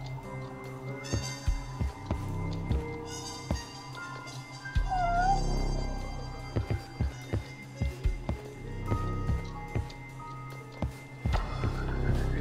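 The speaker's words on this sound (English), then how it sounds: "We found a cat." A cat meows within the game Judgment, a short wavering cry rising over a busy mix of music, footsteps and clicking game sounds.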